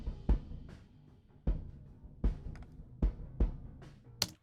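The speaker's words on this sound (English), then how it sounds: "So it's the two kick microphones in and out." Kick drum picked up by a D112 plus a sub kick microphone and parallel compressed through an 1176, heard as soft, deep thumps in an uneven pattern at a low level.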